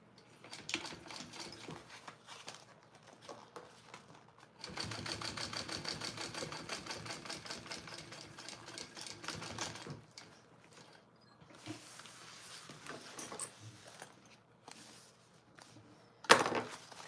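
Sewing machine top stitching a bag from a Heartbreaker pattern, running in bursts of rapid mechanical stitching with pauses and handling noises between, moderately close and with no talk.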